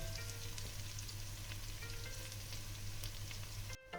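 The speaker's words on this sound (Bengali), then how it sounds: "রসুনটা আমার ভাজা ভাজা হয়ে গেছে" Garlic fries in hot oil in a kitchen pan with a soft, steady sizzle under a low hum. The sound cuts off abruptly near the end, and no one speaks.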